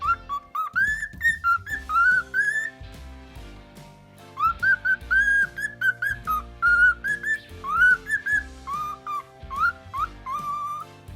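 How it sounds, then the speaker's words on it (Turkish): A cockatiel whistles a series of rising, warbling phrases, loud and near, with short pauses between bursts and some background sound underneath. "Sultan papağanları ıslık konusunda daha başarılıdır. Uzun uzun ıslık çalabilirler."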